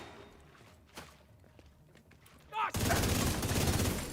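Gunfire in a shooter video game starts with a few scattered sharp shots. It then breaks into a loud, continuous burst of rapid fire for the final second and a half, with faint talk in the background.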